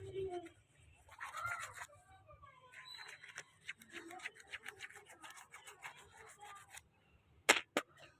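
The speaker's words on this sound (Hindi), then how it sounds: "और कर लेती हूँ फटाफट ब्रश" Toothbrush brushing teeth, a quick rasping scrub in short bursts with wet rubbing strokes, close to the mic, ending with two sharp clicks; a voice murmurs faintly underneath.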